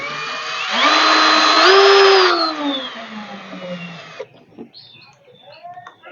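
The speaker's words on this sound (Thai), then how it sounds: "ใช้สว่านได้สายนะครับ มันจะรวดเร็วในการใช้งาน" Corded power drill driving bolts on a Honda Wave 110i, a loud whirring run that rises in pitch and holds for about two seconds, then winds down, followed by quieter clicks and handling noises.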